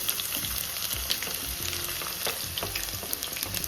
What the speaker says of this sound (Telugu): గోల్డెన్ బ్రౌన్ వచ్చేంత వరకు ఆనియన్స్ వేపాలి